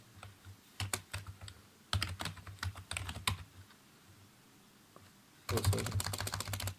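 Fingers tap a computer keyboard in quick bursts of close, crisp keystrokes, separated by short pauses, with a final dense flurry; no one speaks.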